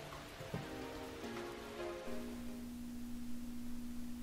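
Rain patters softly and steadily in the video game Persona 4, a faint wash beneath sustained musical tones and a brief clatter, with no voices.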